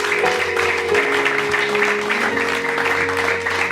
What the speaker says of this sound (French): Est-ce qu'on peut acclamer cette fois?